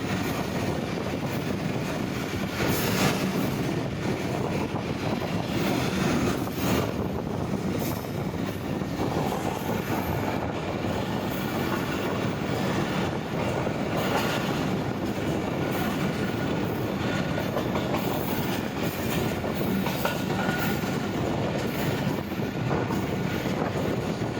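Musa Pak Express passenger train running on rails from Khanewal toward Lahore, heard from on board as a loud continuous rumble with rattling carriages and rhythmic wheel clatter, no speech.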